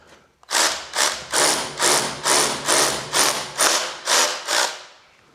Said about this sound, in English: I'm drilling some giant holes